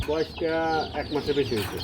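Chickens cluck and call in a short, close burst of drawn-out, voice-like notes, with farm-yard background noise.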